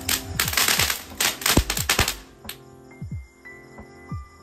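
Firecrackers bursting during Diwali celebrations, a rapid crackling string of loud pops for about two seconds followed by scattered distant bangs, no talk.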